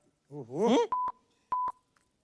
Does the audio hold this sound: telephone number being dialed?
yes